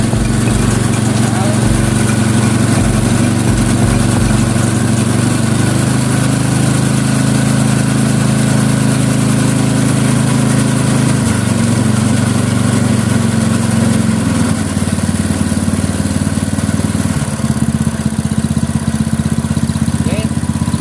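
Hand tractor (paddy plough) engine being test-started, sputtering briefly then settling into a loud, steady low idle that changes pitch slightly partway through, heard up close.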